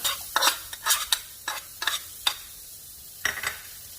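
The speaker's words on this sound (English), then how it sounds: "And now it's time to saute my onion" Onion sautéing in a little oil and leftover bacon grease, stirred in short scraping bursts over a bright, close sizzle, about eight quick strokes in four seconds.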